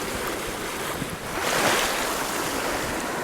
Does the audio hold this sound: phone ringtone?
no